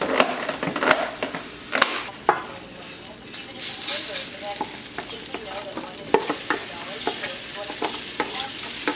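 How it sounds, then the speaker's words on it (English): Tofu and broccoli fry and sizzle in a pan, with steady crackling and repeated scraping stirs close up, nobody speaking. "I'm just gonna wait until the tofu gets all brown and the broccoli, like, you know, crisps up more"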